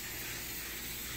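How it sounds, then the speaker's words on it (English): Cooking spray misted onto a mahi fillet, a steady, fairly quiet aerosol hiss held for just over a second with no talking. "So I'm simply gonna spray the mahi."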